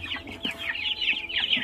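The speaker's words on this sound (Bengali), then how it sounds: "এইটা মাশাআল্লাহ আমাদের সিল্কি মুরগি, দেখেন কতটা সুন্দর।" Silkie hens on a poultry farm give quick, fairly soft clucks and chirpy calls in an uneven run, with a faint hum of the farm behind them.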